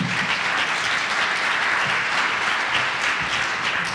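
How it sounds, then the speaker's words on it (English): Steady, dense applause from a large crowd at a Pechakucha event at a science center, loud and continuous throughout with no pauses or voices breaking through. "Let's give him a round of applause"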